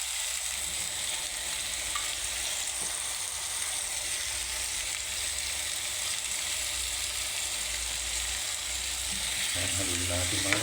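Pancit canton noodles with soy sauce are cooked in a pan, producing a steady bright sizzle that holds evenly throughout, with a cluster of faint utensil scrapes and clicks toward the end, close and moderately quiet.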